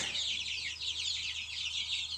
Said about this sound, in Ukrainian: Ну і наша менша група курчаток.